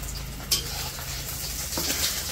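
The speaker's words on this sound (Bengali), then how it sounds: "আর যে ওইখানে ডিম ভাজতেছে আনাসের জন্য" Eggs fry in a pan in a village kitchen, a continuous close sizzle with a couple of sharp clinks of utensil against the pan.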